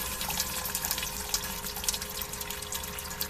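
Hot sparge water runs steadily over grain in a Brewer's Edge Mash and Boil during home beer brewing, a continuous near rushing trickle with faint splashes.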